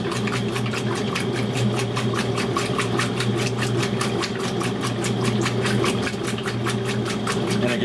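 A Maytag A606 washing machine runs with its dual action agitator, a loud, steady motor hum overlaid with a rapid, even, rhythmic ticking that continues throughout.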